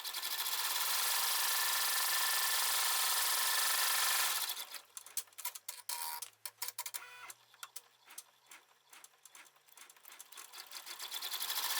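An embroidery machine stitches a pocket piece for an in-the-hoop sanitizer holder, first as a loud steady whir for several seconds, then as a rapid run of needle clicks and pulses that builds again near the end.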